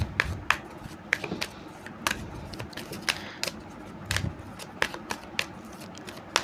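Tarot cards are handled and shuffled while one is drawn, giving a quick series of crisp flicks and slaps at an irregular rhythm, close and fairly loud with no talking.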